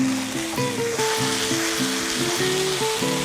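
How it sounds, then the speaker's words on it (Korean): Green and red chilies being lightly stir-fried in a pan of soy-braised chicken crackle in a continuous close sizzle, with intermittent stirring scrapes and a musical background tone running underneath. "이제 청고추 홍고추를 뿌려주세요. 가볍게 볶아주세요."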